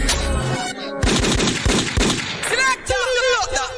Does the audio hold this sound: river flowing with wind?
no